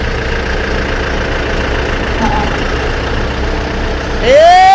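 A DC105X combine harvester's engine idles with a steady, heavy low rumble while the machine backs up, then a rising mechanical whine climbs sharply in the final half second.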